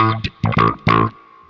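Bass run through a BEF Pro envelope filter pedal at its standard setting, playing a few short plucked notes with a vowel-like wah sweep on each, close and clean with no talk.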